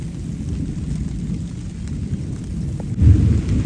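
Light rain falls over open farm fields as a steady, soft hiss with a low rumbling undertone, swelling slightly louder toward the end.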